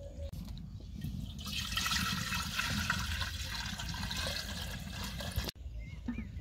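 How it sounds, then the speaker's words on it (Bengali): Water poured into a cooking pot set on the stove. A steady, close rushing pour runs for about five seconds, then cuts off abruptly and leaves faint room noise. "হাঁড়িতে আমি চুলায় বসিয়ে দিব, হাঁড়িতে দিয়ে দেবো পানি,"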